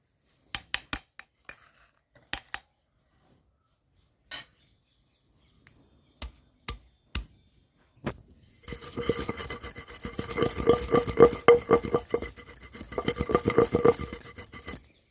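Garlic and cumin with salt are pounded in a stone mortar for bottle gourd chutney, starting as sparse sharp knocks and clicks, then becoming a dense stretch of rapid grinding and crushing strokes, close, with no talking.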